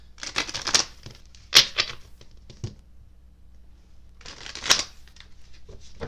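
Tarot cards being shuffled for a reading, two bursts of crisp riffling and flicking a few seconds apart, close and fairly loud, with quiet handling noise between.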